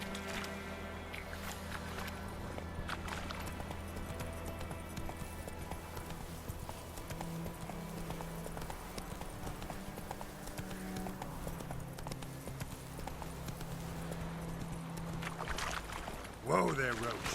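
Steady clip-clop of Roach the horse galloping in The Witcher 3, a continuous rhythmic hoof beat under game music and ambience, with a brief louder burst near the end.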